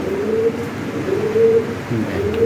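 Lahori Sirazi pigeons coo repeatedly in low, throaty rolling calls, several overlapping birds close by in a steady rhythm with no talking.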